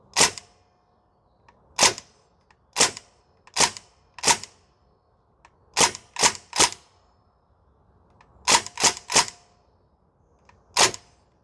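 Gas blowback shots from a Northeast Airsoft Mini UZI airsoft gun, fired one at a time or in quick pairs and triplets, about fifteen sharp clacks over several seconds. They are loud and close, with faint background noise between shots.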